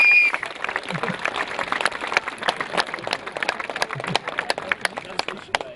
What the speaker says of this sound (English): I want everyone to give a round of applause to our guest of honor, Mr. Jimmy Chin.